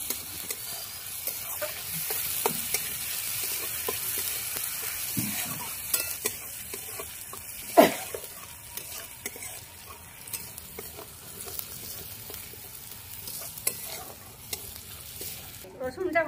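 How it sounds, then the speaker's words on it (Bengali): Garlic fries in a pan with a soft, steady sizzle, broken by scattered clicks and scrapes of stirring and one louder knock near the middle, with no voices. "রসুনটা দিয়ে একটু ভালো করে ভেজে নেব"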